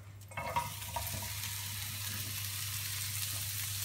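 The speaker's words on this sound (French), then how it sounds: "On va faire sauter nos poivrons." Bell peppers sautéing in a hot pan: a brief clatter as they go in, then a steady, even hiss of sizzling that fills the rest, close and uninterrupted.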